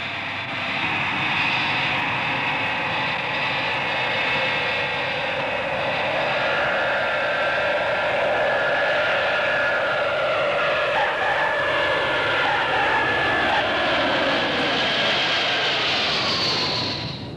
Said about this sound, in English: this Caravelle lands during a testing flight